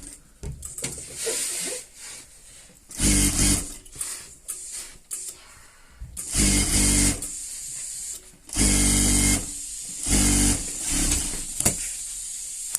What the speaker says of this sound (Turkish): Bu kısmını direkt dikiş at, dikiş vuracağım.